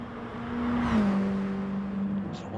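A Mini Cooper Cup race car lapping Laguna Seca, its engine holding a steady drone that swells and dips slightly through a corner, heard at a moderate distance without speech.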